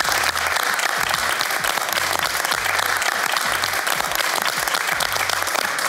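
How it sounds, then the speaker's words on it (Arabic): A game-show studio audience claps continuously and loudly as a prize is presented, the dense applause steady for about six seconds. "تحت تصفيقات الجمهور"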